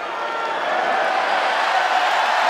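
An arena crowd at an MMA fight grows restless, a steady, loud roar of voices with rising murmur and no distinct claps, sustained throughout.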